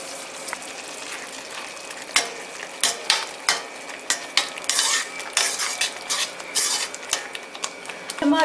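Roasted spice powder being stirred into tomato thokku in a kadai, with a ladle scraping and knocking against the metal pan in irregular strokes over a low background sizzle.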